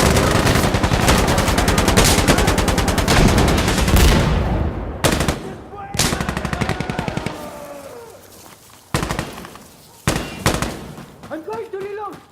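Gunfire in the video game Insurgency: Sandstorm, with a loud sustained automatic burst followed by shorter volleys and scattered shots, while voices shout over the fighting.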